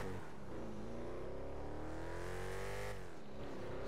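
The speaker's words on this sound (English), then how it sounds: "And the engine on this car sounds quite nice," A car engine in the video game GTA 5 revs steadily near and loud, rising then dropping in pitch, with no talk.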